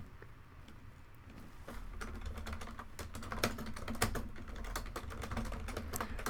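Someone types code on a computer keyboard: a steady run of dense, overlapping key clicks, picking up pace midway and continuing close and fairly loud over a low background hum, with no talk.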